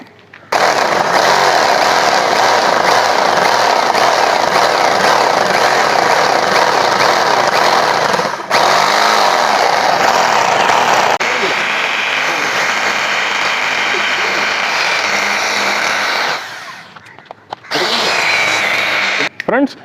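Drill boring a hole about 1.5 inches deep during a kathina build: a loud, continuous rough motor drone with brief dips and one short pause near the end, no voices heard.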